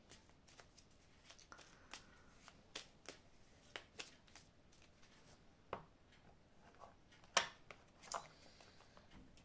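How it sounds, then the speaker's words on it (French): Cards drawn and shuffled from an oracle deck of fairy-tale cards, a series of soft close clicks and flicks spaced irregularly over a quiet background. "Je vais vous prendre une carte ici."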